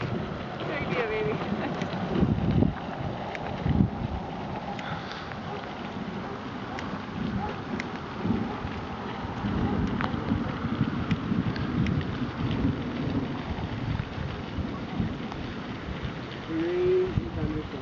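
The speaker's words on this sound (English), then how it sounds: "Crazy thunderstorm." A thunderstorm with rain out on a dyke, heard as a steady wash of rain and wind gusts on the microphone, with low rumbles rolling through the whole stretch.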